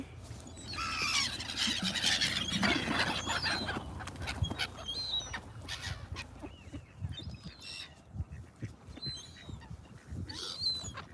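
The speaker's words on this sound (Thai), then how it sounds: "หรือเป็ดค่ะ" Several ducks quack and honk in a noisy outdoor flock, calls overlapping and fading, with squeals and rustling mixed in.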